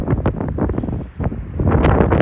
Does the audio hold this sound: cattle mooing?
no